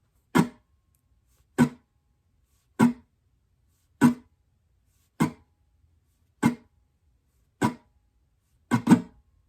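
A looped guitar layer of muted strums for the song gives eight sharp percussive hits at a steady, even pace, close and dry with silence between them.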